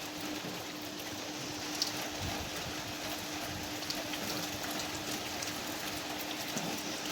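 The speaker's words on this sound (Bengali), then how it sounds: "বৃষ্টি থামার কোনো নাম গন্ধ কিচ্ছু নাই, চলতেছে চলতেছে চলতেছি" Steady rain falls outside in a continuous, even hiss and patter, with a faint low hum underneath, moderately quiet, no voices.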